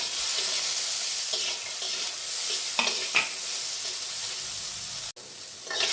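Chickpeas, eggplant and potato frying in a pan with salt and turmeric, a close, steady sizzle broken by a few scraping stirs of the spoon.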